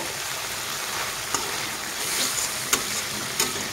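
A spice paste for mustard hilsa curry fries steadily in oil with a continuous close sizzle, broken by a few light spatula taps.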